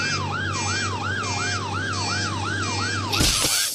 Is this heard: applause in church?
no